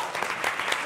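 Studio audience applause greeting a guest introduced on a comedy panel show, a brief, fairly dense patter of clapping at moderate volume.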